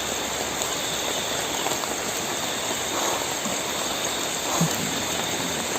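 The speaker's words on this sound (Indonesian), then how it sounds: "Nih, lagi hujan." Steady rain falling, a dense, even hiss of drops that holds at a constant level throughout, with faint low background noise and no speech.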